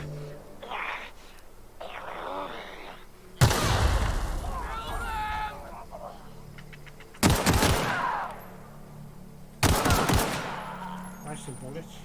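Gunfire in The Outer Worlds, loud automatic bursts in three separate volleys, each crackling and rattling before trailing off, with quieter game sounds and a voice talking in between.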